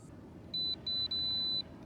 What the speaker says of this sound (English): You'll know it's connected when it has one long beep.